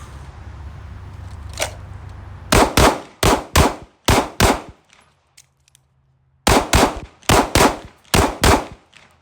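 Handgun shots fired in a timed shooting drill, two groups of about six sharp, loud reports in quick rhythm, each ringing briefly, separated by a quiet pause, with a beep-like tone near the start.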